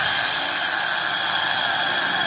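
Cordless 24V Japanese-domestic hammer drill for concrete, set to fast speed, running steadily with a continuous high-pitched motor whine and a thin whirring hum, close and loud, with no talk.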